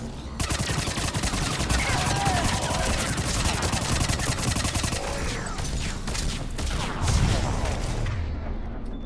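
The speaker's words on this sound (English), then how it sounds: "This SMG is doing better than the LMG, it seems." Rapid submachine gun fire from the video game Mass Effect 3 rattles almost continuously for nine seconds, dense, close and loud, with bursts blending into layered combat explosions and effects.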